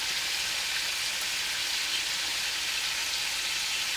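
Lamb shank fries in a hot pan as it is stirred, giving a steady, fairly quiet hiss and crackle that runs evenly throughout with no voices over it.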